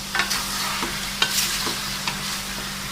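Chicken karahi fries in oil in a pan, a steady close sizzle broken by scrapes and clinks of stirring, with no voices.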